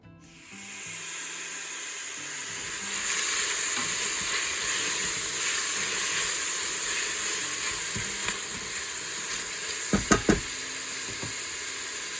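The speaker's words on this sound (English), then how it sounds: "then I'm going to add a pound of ground beef and brown that up" Ground beef browning with carrots and onions in avocado oil, a steady broadband sizzle that swells after a few seconds and holds, with a couple of sharp utensil clicks near the end.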